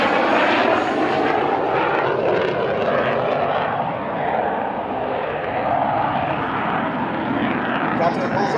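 An F-16 fighter jet flies a knife-edge pass at the Iwakuni air show, its engine a loud, continuous roaring rush that slowly shifts in tone, with a public-address announcer talking over it.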